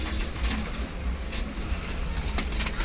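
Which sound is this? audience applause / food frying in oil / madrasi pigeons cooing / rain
madrasi pigeons cooing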